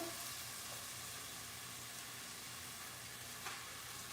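Onions fry in a hot pan with a steady, dense sizzle that holds evenly throughout, close and fairly loud, with no voices.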